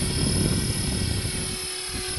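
Helicopter rotor noise from a training flight flying a circular circuit, a steady loud close thumping drone with rotor and turbine whine throughout, no talking.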